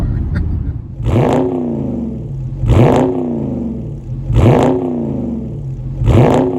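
A 2021 Ford Mustang Mach-E electric car gives four loud, evenly spaced accelerating surges, each a sweeping rising whir and rumble that fades before the next, with no talk over it.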